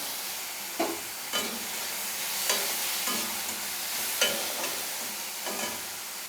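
Grated onion and chopped tomato fry in a pan with a steady close sizzle, broken by several brief scraping stirs at irregular intervals.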